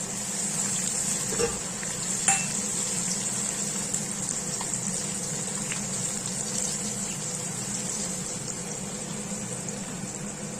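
A steady, hissing sizzle of dried red chilli tempering in hot oil for a moringa leaf dish runs throughout, with a couple of faint clicks near the start.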